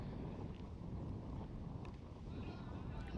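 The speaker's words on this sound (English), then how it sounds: "That's how windy it is." Strong wind buffets the microphone at an outdoor T10 cricket ground in Cyprus, a steady low roaring rumble that fills the whole stretch without letup.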